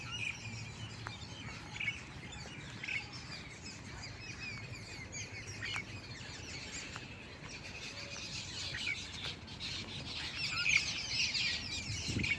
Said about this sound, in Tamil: கூட்டம் கூட்டமாக மைனா உட்காந்துருக்கு